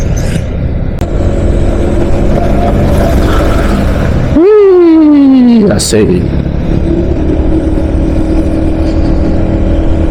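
Big trucks pass on a rural road beside a motorcycle, giving a loud, close engine rumble and a falling pass-by whine, while a rider talks over the traffic.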